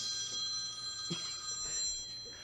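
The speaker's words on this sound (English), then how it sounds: "That phone." A telephone rings faintly in a county board of elections meeting room, a steady electronic trill against a quiet room background.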